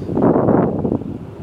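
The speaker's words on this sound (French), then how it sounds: "Donc le vent vient de face, donc de l'ouest," Wind blows steadily at a beach at high tide on Réunion, a broad low rushing and buffeting against the microphone, fairly loud, with no talk.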